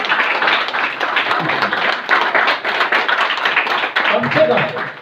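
Clapping from an audience at a Modicare diamond workshop in Mahesana, a steady dense patter of hands filling the room, close and fairly loud, with voices mixed in underneath.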